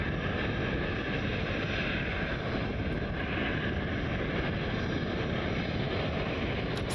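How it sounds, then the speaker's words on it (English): A Boeing 737 airliner taxiing for departure at Cleveland Hopkins International, a steady broadband engine roar with a continuous whine, heard from a distance under wind rumble. "737 taxiing over for departure"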